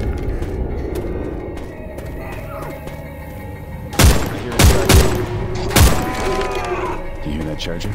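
Shotgun blasts in the video game Left 4 Dead 2, four loud booming shots in the second half after quieter game ambience, with people talking over the action.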